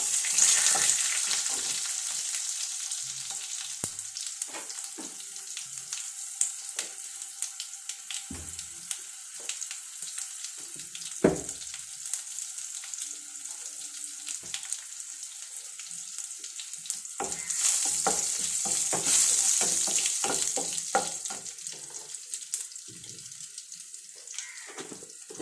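Mustard seeds and spices sizzle and crackle in hot oil in a pan for curry, steady loud frying with scattered pops and spits and a few clinks and stirs.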